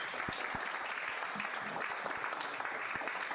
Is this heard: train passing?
no